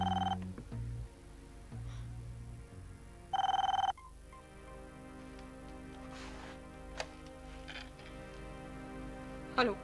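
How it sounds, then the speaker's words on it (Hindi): An old telephone ringing indoors in a drama scene, two short electronic ring bursts separated by a pause, over a sustained tonal music background, with no speech. "इतनी देर से फोन बज रहा है, उठा क्यों नहीं रही थी?"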